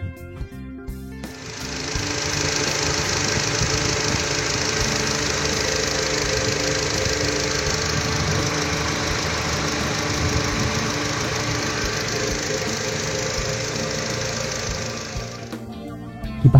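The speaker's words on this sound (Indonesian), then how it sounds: "Kita cek apakah kipas V-nya itu berfungsi dengan baik atau" A car's radiator cooling fan, just reinstalled after repair, starts up and runs at a steady, loud whir with a buzzing mechanical rattle for about fourteen seconds before cutting off.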